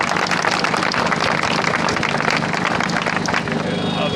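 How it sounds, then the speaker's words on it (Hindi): A crowd at an Independence Day flag-hoisting event applauds to honour freedom fighters such as Bhagat Singh, Mahatma Gandhi and Subhas Bose, with dense, steady clapping lasting throughout. "आप लोग एक बार जोरदार तालियां बनाकर उनका अभिवादन करें"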